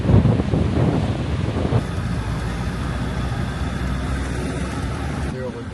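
Rough surf at a competition surf beach in Quezon, a loud continuous wash of breaking waves mixed with heavy wind buffeting on the microphone, steady throughout with no pauses.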